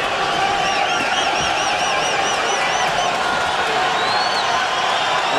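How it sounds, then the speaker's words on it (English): Boxing arena crowd in Austin, Texas, at a Katsidis versus Chavez fight, a continuous dense roar of cheering and hollering with a few whistles, loud and unbroken for the whole stretch. "The crowd's still reacting as it will to everything that Chavez does. I mean, he's backing up and they holler and screaming."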